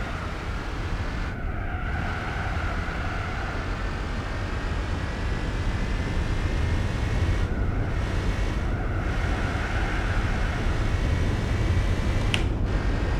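A car engine in the racing game Gran Turismo 4 drones with a deep, ship-like hum, holding a steady, continuous rumble throughout with a few brief dips and no talking.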